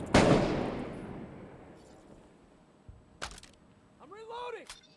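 Frag grenade detonating in Six Days in Fallujah, one loud close blast that decays over a couple of seconds, followed by scattered sharp shots and a brief rising whine.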